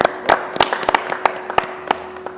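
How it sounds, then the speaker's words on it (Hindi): Audience members at an Arya Samaj poetry gathering clap to welcome a poet, a sparse run of separate, sharp handclaps rather than a full round of applause, with a faint steady tone underneath. "उनके स्वागत में तालियां बजाइए"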